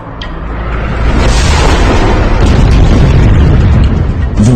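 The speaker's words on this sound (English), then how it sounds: "When the Earth was being bombarded constantly by asteroids" Deep, rumbling impact explosions of asteroids pounding the early Earth's crust, a loud continuous booming roar that swells after the first second and sustains heavily to the end, with no voices.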